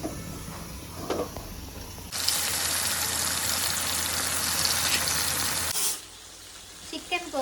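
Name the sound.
chicken 65 deep frying in kadai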